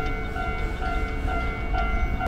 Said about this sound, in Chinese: 那刚刚有一台电车哦，反方向的已经走了